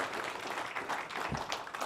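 Steady, broadband applause from an audience at a gubernatorial candidate forum, a continuous patter of many hands clapping at even volume throughout.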